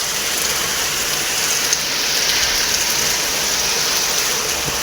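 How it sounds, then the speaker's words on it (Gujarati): Heavy rain pours down in a dense, unbroken hiss, loud and close throughout, with no voices. "અત્યારે પાછો ફૂલ વરસાદ આવી રહ્યો છે"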